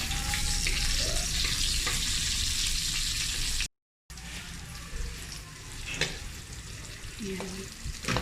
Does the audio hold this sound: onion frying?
yes